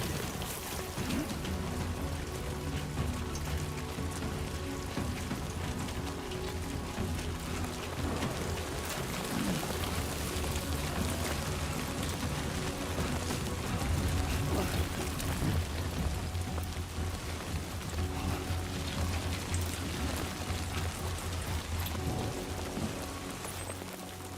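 Continuous rain falls steadily in the video game Death Stranding 2, a dense hiss of drops on surfaces with a low rumble underneath, even and unbroken throughout.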